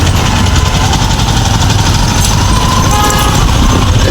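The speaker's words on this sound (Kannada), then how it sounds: "ಸಾಯಂಕಾಲ ಎಷ್ಟು ಟ್ರಾಫಿಕ್ ಆಗ್ತಿದೆ" Dense, loud evening road traffic in Chikpete with engines rumbling and occasional horn toots, a steady continuous din throughout.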